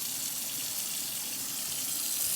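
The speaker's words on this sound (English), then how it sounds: "So we're gonna use the water to separate the layers of lettuce." Tap water runs steadily into a kitchen sink while lettuce leaves are rinsed and separated under the stream, a continuous close hiss of flowing water with no talking.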